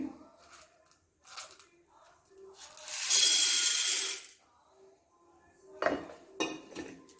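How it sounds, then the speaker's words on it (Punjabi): Dry popcorn kernels poured into a metal kadai make a dense, loud rattling clatter lasting about a second, between quieter scattered clinks and handling noises of the pan. "ਆਪਣੇ ਪੌਪਕੌਰਨ ਵਾਲੇ ਆ ਇਹਨਾਂ ਨੂੰ ਆਪਾਂ ਇਸ ਕੜਾਈ ਦੇ ਵਿੱਚ ਪਾ ਦਾਂਗੇ"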